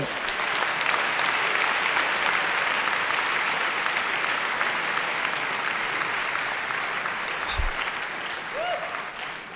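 Studio audience applause during an Italian talk show with comedian Valerio Lundini, a full sustained wash of clapping from many hands, steady throughout with a brief sharp knock partway through.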